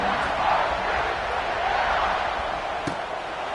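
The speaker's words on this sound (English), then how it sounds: "this crowd is buzzing after that last score" A stadium crowd in the video game College Football 26 keeps up a steady, dense roar throughout, with one short thump near the end.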